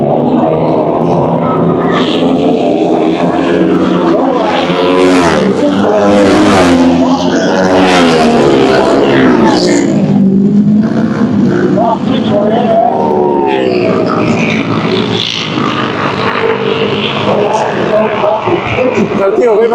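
Flat track motorcycles race on a dirt oval in Georgia, engines revving and whining loudly in rising and falling waves as bikes sweep past, a continuous roar throughout.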